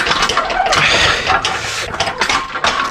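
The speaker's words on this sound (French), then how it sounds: "Tu sais, quand j'accélère au point mort, une espèce de bruit métallique dégueulasse là." A car engine with a worn dual-mass flywheel revs in neutral, throwing out a harsh, rattling metallic clatter in rough surges over the engine note, loud and close with no talk.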